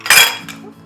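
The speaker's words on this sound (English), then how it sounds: "I've got a pastry blender." A metal pastry blender cuts cold butter into biscuit dough, making a sharp metallic clink followed by a short scraping rustle that fades away within a second.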